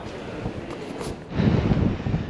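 Strong wind buffets a microphone on a London street, a steady roaring rush that surges louder midway through, with no voices.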